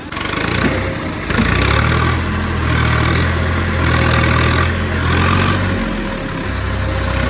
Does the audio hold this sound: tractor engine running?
yes